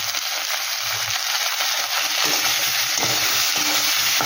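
Spices with turmeric and Kashmiri chili powder frying in a pan for a fish curry, a loud, dense, continuous sizzle with occasional stirring, close by.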